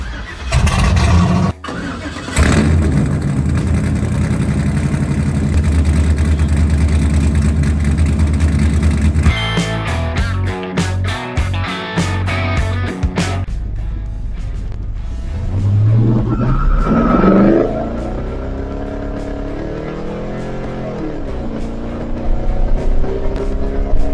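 The engine of an LS-powered Chevrolet C10 truck is cranked and started, then idles with a loud, steady rumble. A few sharp revs follow before it settles into a smoother idle.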